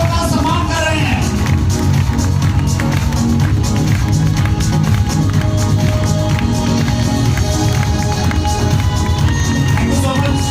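An audience at a network marketing meeting applauds, a dense, loud, sustained wash of clapping with some crowd noise mixed in, continuing without a break.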